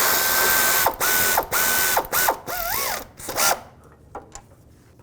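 Bolt on a 2010-2017 Chevy Equinox timing chain tensioner being tightened with a power ratchet or similar tool, producing several loud whirring bursts with rising and falling pitch, separated by short gaps, close up and ending in quieter handling sounds.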